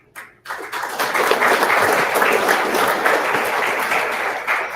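An audience at a comedy night fundraiser for Agami breaks into steady, full applause after a short pause, sustained and even throughout with no talking over it.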